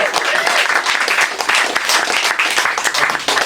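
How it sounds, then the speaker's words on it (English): Loud, dense applause from a comedy club audience, steady clapping filling the room for the whole stretch with a few voices mixed in. "give yourselves a round of applause for writing all the best jokes you're going to hear tonight"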